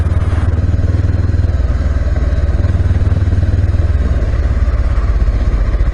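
A Honda CB500X motorcycle lugging along in third gear, its engine producing a loud, steady low thrumming pulse close to the rider, continuous throughout with no talk.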